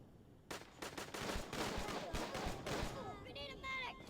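Rocket and weapon fire in the video game Tiny Troopers: Joint Ops bursts in loudly, then rumbles on as a sustained barrage of explosions, and a voice speaks near the end.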